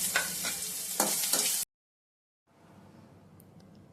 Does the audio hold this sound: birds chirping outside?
no